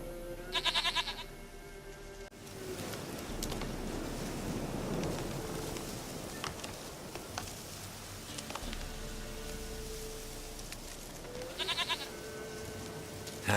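A goat in The Witcher 3: Wild Hunt bleats at the start and again near the end, short nasal calls over a steady wash of ambient game sound.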